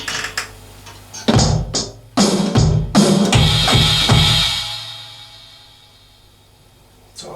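A drum kit plays a break: several sharp snare and bass drum hits in a short pattern, with cymbals ringing out and washing away into a long fading decay.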